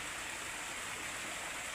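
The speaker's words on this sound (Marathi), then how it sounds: "तिथं असा झरा आहे की एवढं पाणी वाहते" A natural spring at a hillside ashram flows in a steady, soft rushing murmur, faint and continuous with no other sounds.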